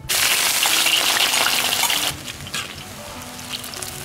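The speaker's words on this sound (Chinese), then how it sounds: "用小火慢慢的把葱姜蒜、洋葱丝炸开" Scallion, ginger, garlic and onion shreds fry in hot oil over low heat. A loud, close, hissing sizzle lasts about two seconds, then drops to a quieter crackle.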